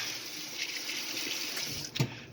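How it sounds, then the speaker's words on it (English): Tap water runs steadily over a whisk being rinsed at a kitchen sink during cherry pie preparation, a close, even hiss ending with a brief clatter near the end. "I'm going to rinse my whisk"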